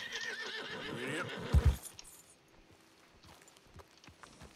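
A horse in the video game Red Dead Redemption 2 gives a loud, wavering whinny and snort, then quieter hoof clops and footsteps trail off at a moderate distance.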